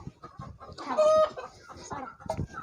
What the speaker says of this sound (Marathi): ही कोंबडी उठवतो